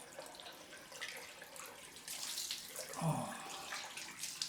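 Water is poured and splashed for a cold rinse after shaving, a faint running and splashing sound with a louder slosh partway through, and a brief exclamation from a voice.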